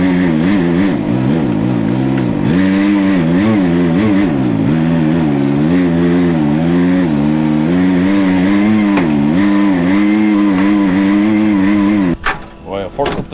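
A forklift or Bobcat skid steer engine runs loud and close for most of the span, its pitch wavering as it revs and settles, before cutting off abruptly near the end.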